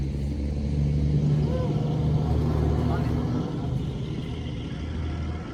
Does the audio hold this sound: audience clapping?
no